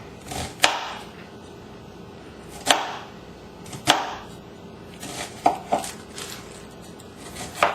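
A knife dicing an onion on a cutting board, irregular crisp knocks spaced a second or more apart, a couple in quick succession, close and unaccompanied by speech.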